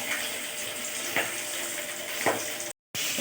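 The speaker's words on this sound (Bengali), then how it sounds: "এই তেলাপিয়া মাছ ভাজা বসিয়েছি" Tilapia fish fries in hot oil in a home kitchen, giving a steady, close hiss and sizzle with a few sharper spits and crackles and a brief dropout near the end.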